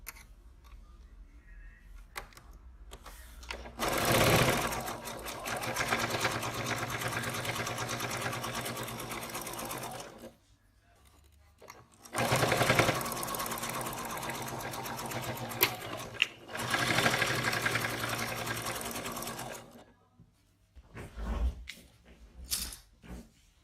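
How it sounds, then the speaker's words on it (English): A sewing machine runs a quarter-inch seam through fabric for a rocket pocket, buzzing close and steady in two long stretches separated by a brief pause, then a short final run with a few clicks. "Now sew with 1/4 of an inch seam allowance"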